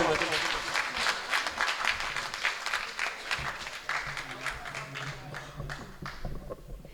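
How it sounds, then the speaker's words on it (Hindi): A mushaira audience applauds to welcome a poet, a rhythmic patter of claps with an announcer's voice over it, thinning out toward the end. "जोरदार तालियों से इस्तकबाल के मोहतरम आदिल"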